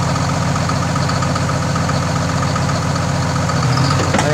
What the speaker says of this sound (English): Bearings out. You can hear it in there.